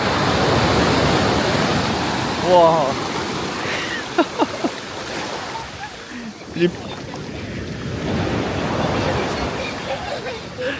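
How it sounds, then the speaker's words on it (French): Mediterranean surf breaking on the shore, a broad continuous wash of waves with surges, while people talk and exclaim nearby over the roar. "Les vagues, elles sont balèzes, hein."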